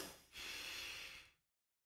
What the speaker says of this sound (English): So nice deep breath.